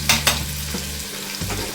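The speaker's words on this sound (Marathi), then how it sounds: "आता आपण तेलात आधी थोडेसे जिरे घालूया। जिऱ्यांचा छान आवाज येतो" Cumin seeds hit well-heated oil and sizzle in a steady close crackle, with a couple of sharp stirring scrapes near the start and a low hum underneath.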